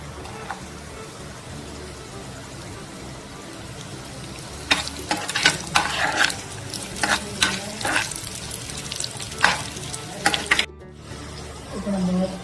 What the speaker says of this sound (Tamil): முந்திரியை இதை போட்டு வறுத்து எடுத்துக்கலாம். திராட்சையும் போட்டுக்கலாம்.